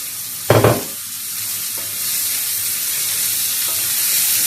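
Two medium onions fry in oil in a pan for a pumpkin-leaf saag, giving a steady close sizzle with a brief stirring scrape at the start.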